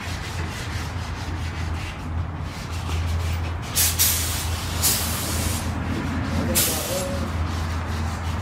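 A steady airy hiss of a spray gun painting an 1984 Chevy Monte Carlo's door jambs white, with a few sharper, louder bursts, over a low mechanical hum.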